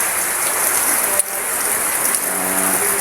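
Rain falls steadily on a dark, stormy morning in farm country, a close, even hiss of drops hitting surfaces that runs throughout, with a faint mechanical clicking near the end.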